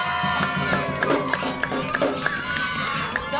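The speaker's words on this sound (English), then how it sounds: "All right, give them a big round of applause." Crowd at a Tahitian Ori dance event cheers and claps for young girl dancers, with scattered shouts and whoops over lively background noise and a steady low rhythmic pulse beneath.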